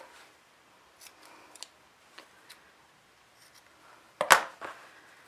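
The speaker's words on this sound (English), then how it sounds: "Trim a little bit those corners." Scissors snip the corners of a fabric sunglasses case in a quiet room: a few light, scattered cuts, then a louder, sharper double snip near the end.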